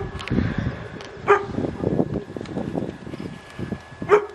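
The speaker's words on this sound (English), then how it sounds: "Dog right there just keeps barking at me." A dog in the small town of Philippolis, Free State, barks repeatedly in short, fairly close yaps and woofs with uneven gaps, heard over a rough outdoor background.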